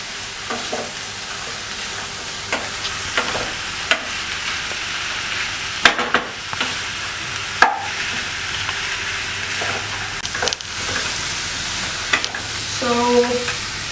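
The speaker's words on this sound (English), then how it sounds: "So the mushrooms are decently sauteed" Mushrooms and vegetables sizzle steadily in a pan while being sautéed for risotto, with a continuous frying hiss and occasional stirring scrapes and clinks of the utensil.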